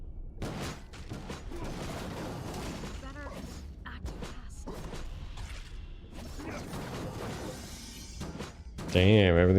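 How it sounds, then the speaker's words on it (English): A busy clatter of explosions, mechanical crunches and shattering effects in the fantasy game Mead Quest, playing continuously and fairly loud, with people talking over the action. "Damn, everything's just exploding."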